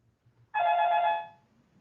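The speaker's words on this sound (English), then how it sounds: "don't know whose phone that was." A single telephone ring chimes out, a bright, bell-like electronic tone held for about half a second before fading, set against a quiet room background.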